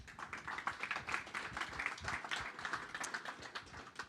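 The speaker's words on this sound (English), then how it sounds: "big round of applause" Applause from a conference audience at the end of a talk, a steady patter of many hands clapping at a moderate distance, faint overall.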